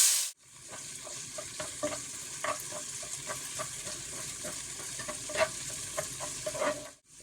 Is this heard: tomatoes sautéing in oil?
yes